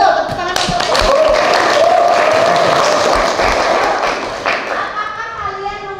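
Students in an Indonesian school civics lesson clap their hands together in a loud, dense burst. Voices chant and call out over the clapping, which fades near the end.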